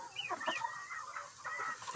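A black copper Marans rooster, a powerful bird hatched from eggs bought near Moscow, clucks and calls in a run of short, uneven vocal bursts heard close up and alone.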